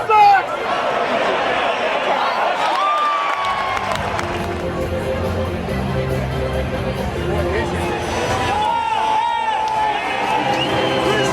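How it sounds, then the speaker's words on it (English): Rowdy baseball crowd in the bleachers at Wrigley Field, a dense, loud roar of cheering, shouting and chatter that holds steady throughout, with occasional whistles cutting through. "The crowd here is kind of rowdy."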